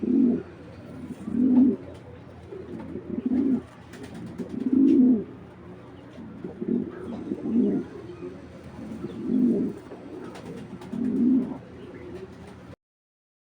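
Racing pigeons coo in a breeding loft, a series of low, rolling coos repeating roughly every second or two, fairly close and clear against quiet background.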